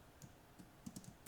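Keystrokes on a computer keyboard, a handful of quiet, uneven clicks and taps close by, clustered near the end with brief gaps between them and no talking.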